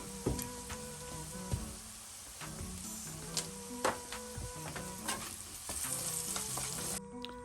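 Peppers and onions sizzling in oil in a skillet, a steady soft frying hiss with occasional clinks and scrapes of a utensil stirring, fairly quiet and close, no talking.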